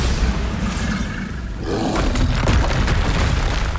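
A Bombarda spell blast from Hogwarts Legacy, a loud booming explosion with a roaring rumble that swells midway and sustains to the end, sitting close and dense with no talk over it.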